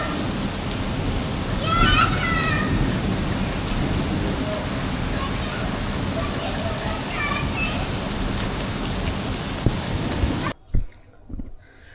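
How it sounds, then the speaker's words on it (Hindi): Heavy rain pours steadily outdoors in a dense, continuous hiss, with a voice and brief bird-like chirps faintly above it before the sound cuts off near the end. "बारिश बंद हुई और फिर वापस तेज हो गई"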